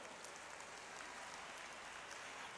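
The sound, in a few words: audience applause welcoming Amit Shah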